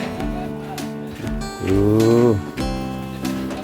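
Bleating from a pen holding a dozen goats, loud and near in long wavering calls, one rising and swelling in the middle, with no talk over it.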